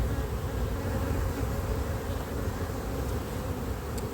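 A small honeybee colony droning at the hive, a dense, even buzz of many bees close by, continuous and unbroken.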